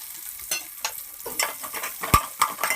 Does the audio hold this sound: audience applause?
no